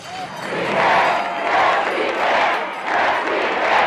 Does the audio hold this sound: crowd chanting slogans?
yes